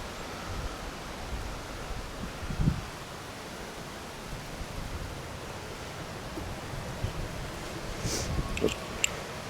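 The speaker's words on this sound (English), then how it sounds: "It's freezing out here, and it's windy" Wind blows steadily outdoors on a freezing day, a soft broadband rush with faint rustling and a few light knocks and scrapes near the end.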